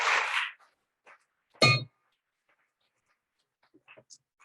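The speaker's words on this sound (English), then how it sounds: "thank you for being the first to use the bell ringer beacon" A bell ringer beacon struck once at a Rotary Club of Oakland meeting gives a sharp metallic clang that rings briefly, after a short burst of talk, with faint room noises trailing after.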